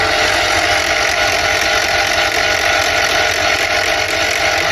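An EMCO FB2 milling machine runs with a 3D-printed gear in its drive, making a loud, continuous mechanical whir with a steady tone and no breaks.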